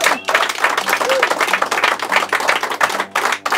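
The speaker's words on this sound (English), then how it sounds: "So another round of applause for the guys." An audience applauding a live band, a short dense burst of clapping with a crowd feel that fades out near the end.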